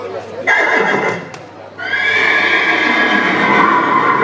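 A horse neighs loudly twice, a long shrill whinny followed after a short pause by a second sustained, quavering call, close and prominent.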